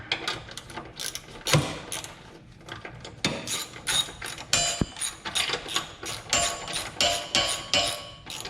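Ratchet wrench snugging down the front sway bar mounts on a Chevy Camaro, with repeated close mechanical clicking strokes in irregular bursts and no talking.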